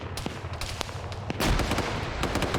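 A grenade goes off in a shooter game amid rapid gunfire, loud sharp reports crackling in quick succession before a heavier blast lands midway and sustains a dense, noisy roar.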